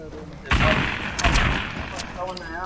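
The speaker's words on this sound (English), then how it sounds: "somebody shot me from the side there, no?" Fortnite gunfire cracks out in a loud, close volley of several shots over a second or so, with a voice briefly audible near the end.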